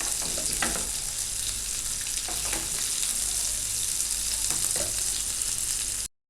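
Shami kabab patties sizzle steadily in hot oil in a pan, a continuous close frying hiss with faint stirs and pops, alone with no voices.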